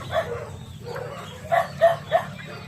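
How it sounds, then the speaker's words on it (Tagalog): Neighbours' dogs bark intermittently in the distance on a rural farm, a few scattered woofs followed by a quicker cluster of three barks, faint against steady background noise. "Puro aso yung marinig mo."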